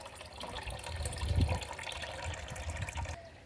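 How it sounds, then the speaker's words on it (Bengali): Oil-cake fertilizer water is poured onto rooftop garden plants. It makes a faint, close splashing trickle that swells briefly in the middle and then tapers off, with no talking. "এখানে আমি খোলের জল দিয়ে দেবো।"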